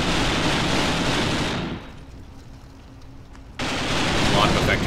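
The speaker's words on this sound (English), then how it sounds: "A lot of effective fire coming there from the enemy." Battle gunfire in the Graviteam Tactics war game, dense bursts of shooting that drop away to a quieter lull before the loud firing returns.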